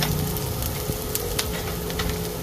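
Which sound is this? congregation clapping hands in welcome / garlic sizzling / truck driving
garlic sizzling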